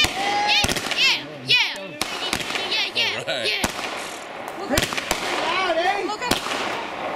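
Loud New Year's fireworks bursting in a rapid, irregular string of sharp bangs and crackles, with people close by talking, cheering and whooping throughout.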